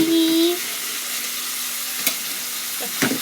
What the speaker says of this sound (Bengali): তেলে ছেড়ে দিয়েছি দিয়ে নেড়ে ছেড়ে নিচ্ছি